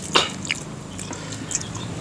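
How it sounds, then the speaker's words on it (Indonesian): Someone chews crispy deep-fried fish with a few sharp crunching bites close up, separated by quiet gaps over a low background hum. "Kriuk-kriuk. Wah, renyah. Renyah banget."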